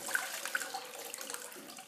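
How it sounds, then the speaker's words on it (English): Cashews are rinsed under a running kitchen tap, a faint, continuous splashing of water with a few small clinks, heard alone without talking. "And so I rinse it and drain it."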